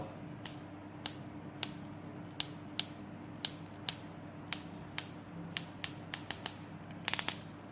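Sharp, quiet mechanical clicks from the clutch torque setting of a Makita DHP484 cordless drill tick one by one at an uneven pace, speeding into a quick rattling burst at the end, over faint background hum.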